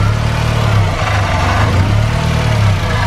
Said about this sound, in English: Now we got a little bit of pulsating in the engine.